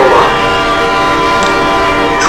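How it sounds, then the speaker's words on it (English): A train pulls into a station with a loud, steady rumble and a sustained horn-like tone, heard close up. "Train approaching."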